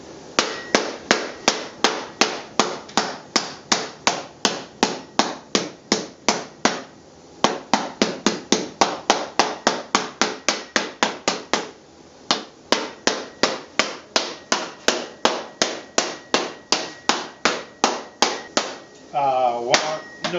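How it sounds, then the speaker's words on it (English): Nylon hammers with curved faces pound metal into shape in a steady run of sharp, loud, evenly spaced strikes, pausing briefly twice, then a quick rattling flurry near the end. "These are nylon hammers."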